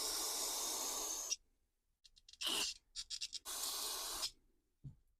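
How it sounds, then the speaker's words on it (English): Carb cleaner sprayed onto a STIHL MS211 chainsaw carburetor in three separate hissing bursts, two long and one short, each with an abrupt start and stop. Faint clicks and handling sounds fall between the bursts. "Give this a good rinse with some Carb Clean"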